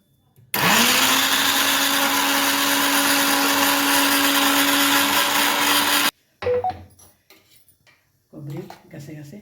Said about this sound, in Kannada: ಎಲ್ಲ ಮಿಕ್ಸಿ ಮಾಡ್ಕೊಳ್ಳೋಣ